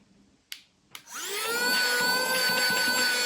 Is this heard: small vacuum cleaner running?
yes